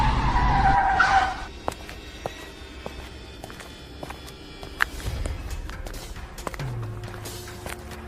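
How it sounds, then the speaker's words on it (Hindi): A truck braking to a stop on a forest road: a loud screeching skid at the start that quickly fades into quiet woodland ambience with scattered small knocks and a low rumble. "फिर अचानक ट्रक रुक जाता है। ब्रेक की आवाज जंगल में गूंजती है।"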